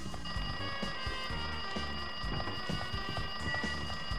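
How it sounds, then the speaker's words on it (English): A telephone rings in the video game Danganronpa 2: Goodbye Despair, with repeated bell-like trills over tonal game music. No one speaks during the ring, which stays steady throughout. "The phone's ringing from the other side?"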